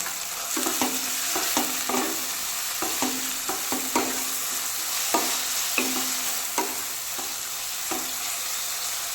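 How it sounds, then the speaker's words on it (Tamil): Onions with coriander and mint sizzle steadily in a pan, punctuated by repeated scraping stir strokes at a fairly regular pace, close and moderately quiet, with no talking. "இப்போ வெங்காயம் இன்னும் கொஞ்சம் வதங்கணும்."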